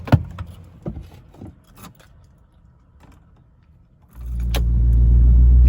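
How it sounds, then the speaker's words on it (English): After check engine codes are cleared, a car engine cranks and starts about four seconds in, settling into a steady close idle hum, preceded by key jingles and clicks inside the car. "So now when I start my car"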